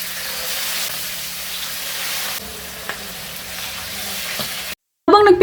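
Food fries in a pan at home with a steady, close sizzle and crackle for several seconds before a short silence and a burst of noise at the end.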